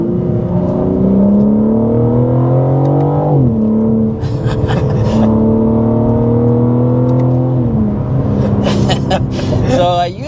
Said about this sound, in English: So I used the paddles there to show you your 8-speed automatic transmission that we have on board.